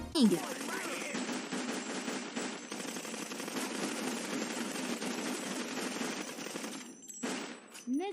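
Sustained rapid gunfire in a video game streamed over a cloud gaming service, like automatic weapons, rattles almost continuously for several seconds with dense overlapping shots.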